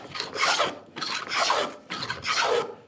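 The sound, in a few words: moulding plane cutting a wood profile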